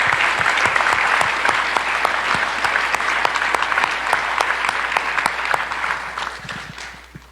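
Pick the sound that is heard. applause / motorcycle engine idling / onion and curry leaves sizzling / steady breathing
applause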